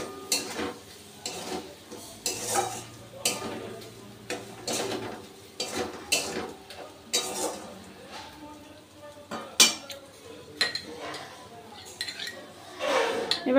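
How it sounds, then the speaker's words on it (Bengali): A spatula repeatedly scrapes and clinks against a pan while a spice paste of poppy seed, melon seed and cashew is stirred and fried for a pointed gourd pasinda, with a faint sizzle beneath the uneven knocks. "আবারও একটু মশলাটাকে খুব ভালো করে কষে নেব।"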